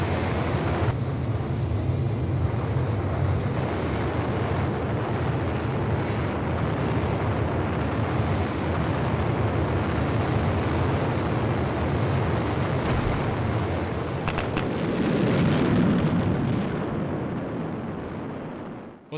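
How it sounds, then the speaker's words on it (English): Rocket landing engines of a Mars rover descent stage fire in an animation, a loud, continuous broadband roar that holds steady for nearly twenty seconds, swelling slightly near the end before tapering off. "It then fires up the landing engines to slow it down even further."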